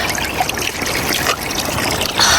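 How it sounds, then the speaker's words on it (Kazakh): Spring water flowing outdoors: a continuous close trickle and babble of running water, steady and fairly loud, with no voices. "Мына жерде міне бұлақ ағып жатыр."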